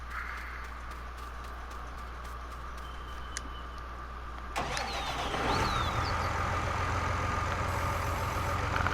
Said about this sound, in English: I'm gonna grab a tractor.